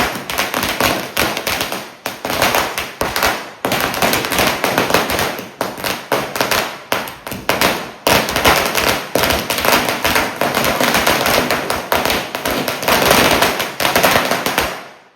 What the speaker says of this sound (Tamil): சூப்பராக பார்த்திங்கன்னா பட்டாசு வைக்க ஆரம்பிச்சிட்டோம் ஃபேமிலியோட